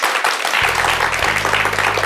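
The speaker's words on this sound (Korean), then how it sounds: "오늘 귀한 말씀 주신 박현모 교수님께 다시 한번 큰 박수 부탁드립니다." An audience at a televised lecture on character education applauds the professor, a dense, steady wash of clapping throughout, with a low musical tone entering underneath partway through.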